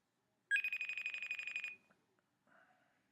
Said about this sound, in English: So we'll get Carmen on the phone here